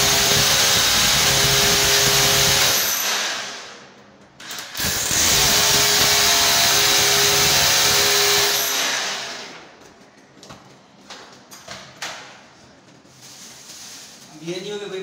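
Electric drill boring into a wall while fitting a fancy light, a loud steady whine running for several seconds, a short pause, then another long burst before fading into scattered clatter and handling noise.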